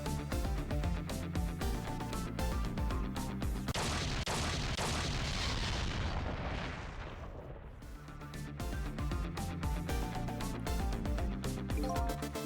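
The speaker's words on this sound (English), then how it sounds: "I think I heard an explosion somewhere." A loud explosion rumbles through the Ghost Trick video game, a broadband burst swelling from about four seconds and fading by eight, set against continuous game music.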